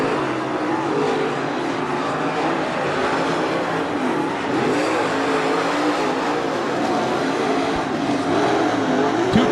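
Late model race cars roar around Attica Raceway Park on the Fourth of July, a dense steady blare of engines racing flat out with no letup, a pack heard from the grandstand.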